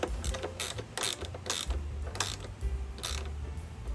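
Hand tools securing bolts on the headlight of a salvage-crashed 2023 CFMOTO 300SS motorcycle under rebuild, several close, loud ratcheting bursts in a steady repeating rhythm with short gaps.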